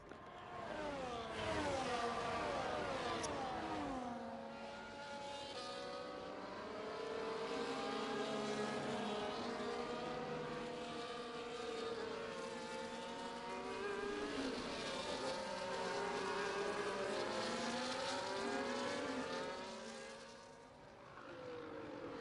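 F1 24 race cars from the EA Sports game on PlayStation, at the Qatar circuit, scream past in a continuous layered engine whine. Pitches rise and fall through gear changes as several cars drive close together, with no talk.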